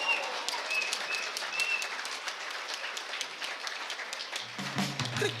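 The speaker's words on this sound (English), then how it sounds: "Give them a round of applause." Applause at an awards gala as company representatives come up to collect a prize, a broad steady patter of many hands; a low tone enters near the end.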